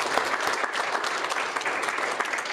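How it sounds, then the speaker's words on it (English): Congregation at a Sunday worship service applauds after special music, a short burst of dense, even clapping from a crowd. "Y'all give them a round of applause."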